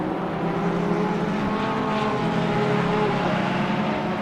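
GT3 race cars, a BMW and a Ferrari, in a sim racing game at Hungaroring, a steady droning engine roar held at full throttle down a straight, loud and continuous with no break.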